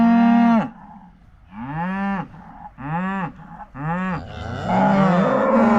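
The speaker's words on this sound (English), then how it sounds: "cows see these guys out here eating this fresh pasture and they're getting a little jealous." Cattle mooing beside fresh pasture, four long, loud, close bellowing moos with gaps between them, followed by a rougher, overlapping call at the end.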